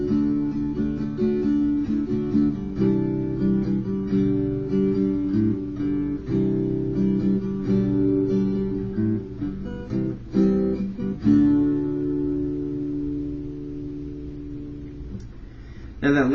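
A guitar riff played on guitar, a string of ringing plucked notes and chord hits, close and clear, fading out at the end.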